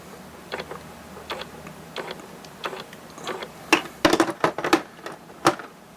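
Flexible-head ratchet wrenches click in short bursts of quick ticking, sparse at first and then a faster cluster of sharp clicks, close by with no talk.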